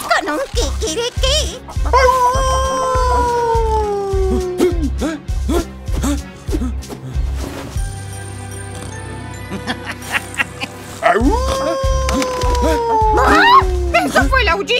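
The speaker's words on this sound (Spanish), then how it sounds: "¿Eso fue el aullido de un lobo?" A cartoon wolf lets out two long, wavering howls that slide downward over a bouncy farm-show music track, with pauses of music between them.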